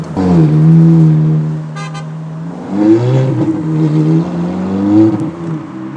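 A Ferrari convertible drives with its steady engine drone rising and falling through revs, loud and close, with no talk.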